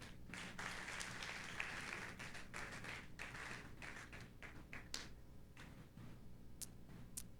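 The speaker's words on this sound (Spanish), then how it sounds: "¿Cuánto le dan un aplauso al Señor?" A church congregation claps during a Sunday worship service, producing steady, dense applause across the room, with some sharp individual claps standing out and the sound gradually thinning toward the end.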